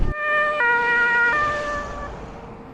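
An ambulance siren in Ukraine wails at night, its tone stepping between two pitches over a low rumble of traffic before fading slightly.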